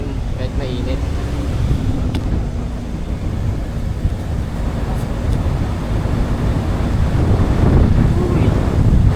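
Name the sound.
wind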